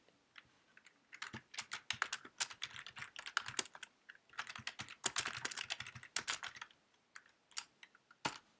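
Quick, close bursts of typing on a computer keyboard with brief pauses between runs of keystrokes, quiet and with no talking.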